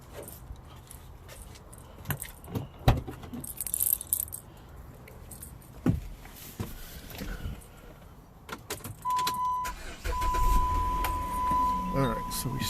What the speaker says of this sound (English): So we'll go and start our engine.